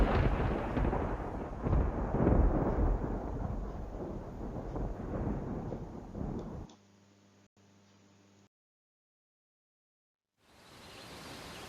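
Thunder during a thunderstorm: a loud, broad rumbling roar that fades after several seconds, then a brief silence before another low swell of rumble rises.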